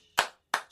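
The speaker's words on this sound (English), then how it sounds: "I'm applauding myself on that one." A man claps his own hands twice, two sharp, close, distinct claps about a third of a second apart in a quiet room.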